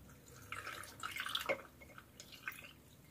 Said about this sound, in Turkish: Şimdi artık turşumun suyunu koyabilirim. Güzelce dolduruyorum.